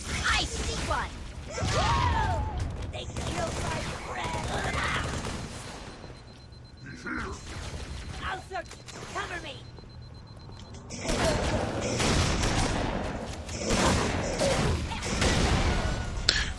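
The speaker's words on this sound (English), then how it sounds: "Gonna use the spike grenade. I'm gonna use double grenades." Spike grenades thrown and bursting in Halo 3 amid a heavy firefight, with whooshes, booming impacts and rapid gunfire rising and falling over the clip, and a voice talking over parts of the action.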